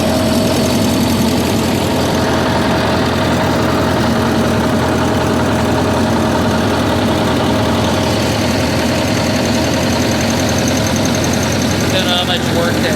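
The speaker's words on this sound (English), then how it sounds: "these little Wisconsin motors just fire right up" An old wood chipper's small Wisconsin engine idles steadily outdoors, a loud, continuous mid-pitched running drone close to the microphone with no clear breaks.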